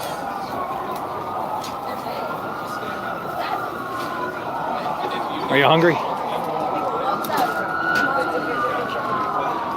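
Police and emergency vehicle sirens wail across Philadelphia streets, rising and falling under steady city traffic noise, with a brief louder whoop midway; a person speaks briefly nearby.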